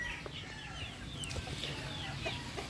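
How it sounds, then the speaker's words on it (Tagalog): Soft, scattered clucking from several chickens close by, with brief faint calls over a low, steady background rumble. "yung ating alagang manok"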